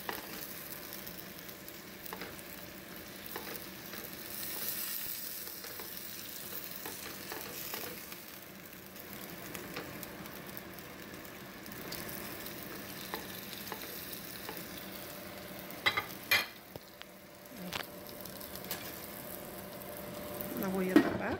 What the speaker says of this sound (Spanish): ya con lo que le puse la voy a dorar así